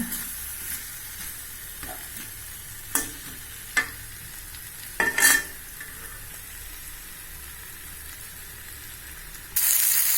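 Raw banana (vazhakkai) sautés in a pan with a soft continuous sizzle, broken by several sharp scrapes and clicks of stirring, fairly close and with no speech.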